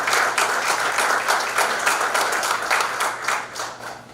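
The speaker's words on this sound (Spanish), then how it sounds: "Quisiera que los podamos acoger con un fuerte aplauso a los ponentes." A hall audience at a talk on death and hope breaks into strong, sustained applause to welcome the speakers, a dense, even roar of many hands clapping for about four seconds with no voices over it.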